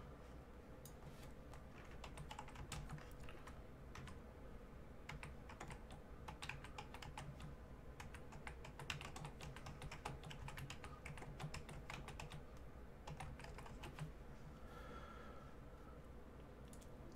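Quiet, close keystrokes on a computer keyboard come in quick irregular bursts with brief pauses, sustained for about seventeen seconds at low volume.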